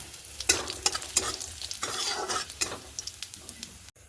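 Dried red chillies and whole cumin seeds hit hot oil in a pan after soybean pieces were fried in it, with a crackling sizzle, bursts of popping and stirring scrapes, close and loud, then a sudden cut at the end.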